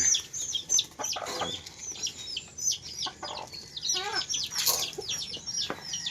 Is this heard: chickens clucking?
yes